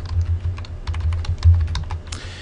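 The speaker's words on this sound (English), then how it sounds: "I'm just going to type in password." Rapid, uneven keystrokes on a computer keyboard as a password is entered, close and clear with no talking, ending in a slightly firmer key press.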